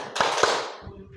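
Two sharp hand claps ring out in quick succession during a clapping exercise with a group, over a low background murmur of voices.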